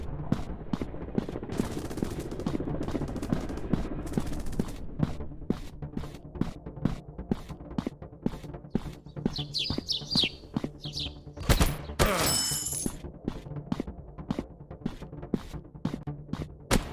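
Rapid gunfire in a first-person shooter game, with dense bursts and single shots rattling close and loud, a brief chirping sound effect and a sharp blast midway.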